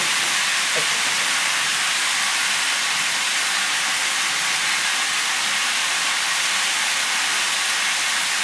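Boiled mixed vegetables, part of a fish-head mixed vegetable dish, hiss and sizzle loudly and steadily in a hot pan, a continuous close frying roar that fills the whole stretch with no talking.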